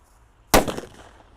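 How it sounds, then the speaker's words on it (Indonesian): A purple disco happy flower firecracker goes off in a single sharp, loud bang that decays quickly, after a second of quiet. "Ini mercon disco happy flower warna ungu. Ini mercon disco yang paling banter bledosnya."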